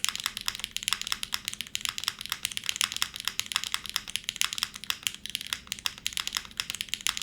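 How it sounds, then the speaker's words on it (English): Rapid, continuous typing on a Keycult No.2 65% mechanical keyboard with an aluminum case, loud and close, with dense overlapping key clacks and no talk. "It's a really loud keyboard, yeah."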